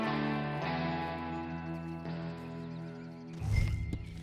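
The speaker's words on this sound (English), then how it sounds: "And you better get on this horse." Horse sounds from the Red Dead Redemption 2 video game, with a snort or whinny-like burst near the end over a sustained musical score; no speech is heard.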